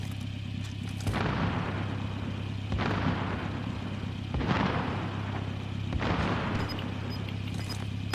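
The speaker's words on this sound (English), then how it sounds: "Flashbang." A flashbang grenade in Call of Duty: Modern Warfare goes off as several heavy booms within a steady low game-audio hum, loud and close, with no talk over it.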